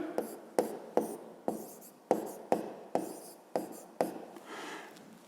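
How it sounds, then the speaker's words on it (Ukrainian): Handwriting on paper while working a fifth-grade math exercise: about ten quick, scratchy strokes in a steady rhythm, close and fairly quiet, with no voices. "Давайте навіть тут запишемо третє."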